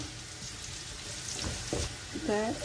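Dried chillies sizzle quietly in hot oil for a lentil tempering, a soft steady fry with a couple of faint utensil knocks; a brief wavering tonal sound rises near the end.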